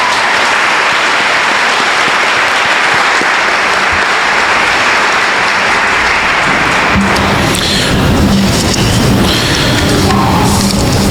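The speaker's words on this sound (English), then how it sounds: "Let's give them a round of applause." Loud, dense applause fills a high school graduation ceremony for the class of 2020, sustained and even for most of the stretch before thinning into scattered clapping and crowd noise near the end.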